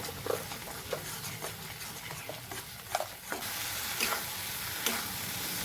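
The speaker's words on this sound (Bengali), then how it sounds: "লবণ দিয়ে ভালো করে মশলাটাকে কষে নেব" Spice paste with cumin, coriander powder and salt being sautéed in a pan for egg curry: soft constant sizzle with repeated scraping strokes and taps of a spatula, close up, no voices.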